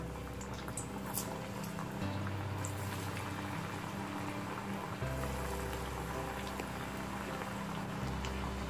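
Green pea vada fry in hot oil, bubbling and sizzling steadily with a fine crackle, joined by a low hum that shifts level a few times.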